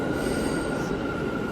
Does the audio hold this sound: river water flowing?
no